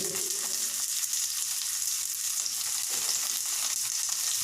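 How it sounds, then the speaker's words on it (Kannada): Dry red chillies frying in a pan for a chilli gojju, giving a steady, close sizzle that runs continuously without a break. "ಒಣಮೆಣಸಿನ್ಕಾಯಿ ಫ್ರೈ ಮಾಡ್ಕೊಳ್ಳಿ"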